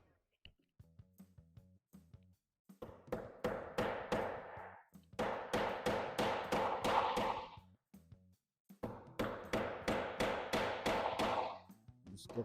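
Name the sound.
hammering threaded inserts into countersunk holes in a guitar jig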